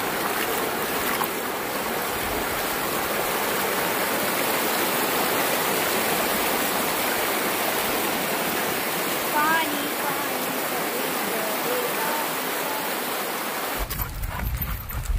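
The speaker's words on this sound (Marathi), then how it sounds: "हे बघा पाणी बघ किती वाहतंय." A waterfall and fast rushing stream roar continuously and loudly at close range for the whole stretch, a dense unbroken wash of water noise.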